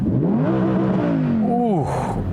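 A naturally aspirated 2020 Audi R8 V10 revs hard under full throttle with its exhaust in loud mode, pitch sweeping up and down across a single loud, close burst while a voice talks over it.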